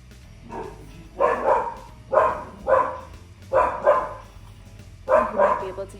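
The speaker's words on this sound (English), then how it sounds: "You might be able to hear the dog barking in the background." A dog barks in a room in repeated bursts of two or three barks, fairly loud and close against a low steady hum, with no talking over it.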